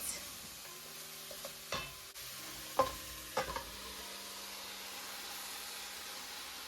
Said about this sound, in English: I'm just gonna stir that for a bit, allow it to saute